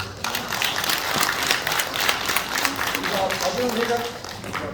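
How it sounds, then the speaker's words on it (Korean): At a regional candidate forum, an audience applauds gubernatorial candidate Lee Kwang-jae with a steady, moderately loud wash of clapping that lasts several seconds, slightly rough and uneven. "진심으로 답변해 주신 이광재 후보께 뜨거운 박수 부탁드립니다."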